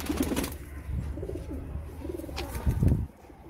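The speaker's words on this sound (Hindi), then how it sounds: "ये हमारा न्यू कबूतर, नया कबूतर है।" Domestic pigeons coo in a low, rolling series close by, with a louder burst near the end and no talk.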